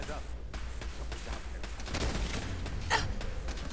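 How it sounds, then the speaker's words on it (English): Distant, muffled gunfire from a turret in Fallout 4's Nuka World, repeated shots under a steady background hum, with a person talking over it. "Ooh, a turret!"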